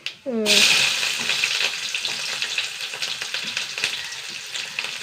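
Mustard seeds drop into hot oil and burst into a loud, dense sizzle that settles into steady crackling and popping, close up with a brief clatter at the start.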